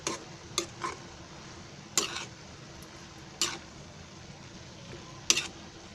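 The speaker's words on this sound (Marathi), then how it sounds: "गॅस आहे ना बारीक करून अशी भाजी ढवलायची पकडीत पकडून." A spatula scrapes and clacks against a pan while baby fenugreek leaves bhaji is stirred over low gas heat, five or six sharp separate taps spaced over a faint steady background hiss.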